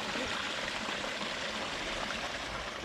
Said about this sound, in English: So what do you think of the waterfall?